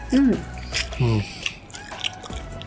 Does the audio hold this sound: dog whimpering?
no